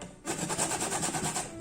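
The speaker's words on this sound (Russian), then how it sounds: "Точно так же мы будем сейчас поступать и с лимончиком, потому что нам необходимо тоже и лимонная цедра." Lemon zest being grated from a lemon for a panettone; close, rapid rhythmic rasping strokes run steadily for just over a second after a short quiet start.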